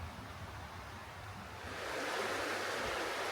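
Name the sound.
river flowing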